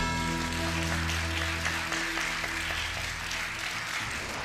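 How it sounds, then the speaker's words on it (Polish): Women in a television game show studio audience applaud. The clapping is a dense, steady patter that rises after a short musical sting fades, fairly loud and without speech. "Widzę, że panie biją brawa"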